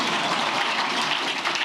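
Audience applause from a crowd at a political gathering, a dense continuous patter of many hands clapping, steady and fairly loud throughout with no talk over it.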